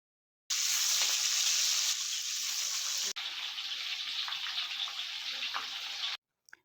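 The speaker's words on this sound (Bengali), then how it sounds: "গ্যাসে কড়া বসিয়ে তাতে সর্ষের তেল গরম করে নুন হলুদ মাখানো কাতলা মাছের মাথাগুলো ভালো করে ভেজে নিতে হবে" Salted, turmeric-rubbed katla fish heads frying in hot mustard oil in a kadai, a loud, even sizzling hiss that starts abruptly, shifts once partway through and cuts off near the end.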